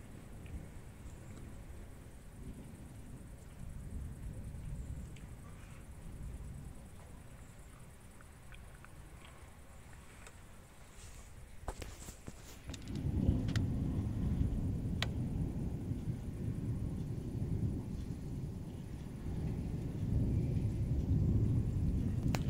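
A summer evening thunderstorm over Chełm, Poland, brings low rumbling thunder that swells into a heavy roll midway through, with steady rain noise beneath.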